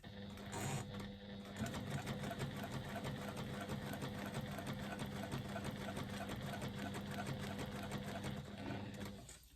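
A sewing machine runs at an even, unhurried pace, stitching a strap of thick upholstery-grade faux leather in a continuous, rapid mechanical patter with no talking.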